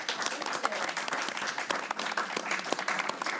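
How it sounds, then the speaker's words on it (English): Steady applause from an audience at an event at the BIC on 3D printing, a dense wash of many hands clapping continuously with no talk over it. "I'd love to ask for a big round of applause for our excellent panelists"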